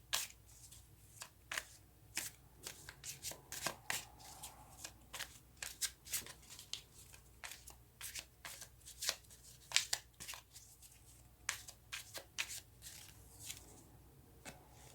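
Tarot cards are shuffled by hand in a quiet room, with soft, irregular riffling and slapping bursts of card edges, close and fairly faint, going on without pause.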